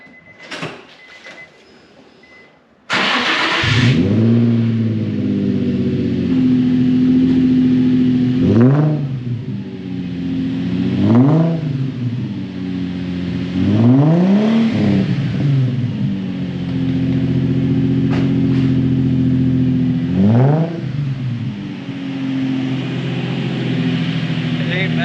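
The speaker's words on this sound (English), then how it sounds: "Gonna get a cold start here." A car engine catches on a cold start after a quiet moment, then idles loudly and is revved several times in rising and falling swells, close by, with someone talking over it.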